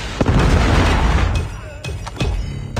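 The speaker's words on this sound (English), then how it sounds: "Friendly Predator missile inbound." A Predator missile strikes in a Call of Duty match, a loud close explosion with rumbling low boom followed by sharp secondary pops and debris bursts.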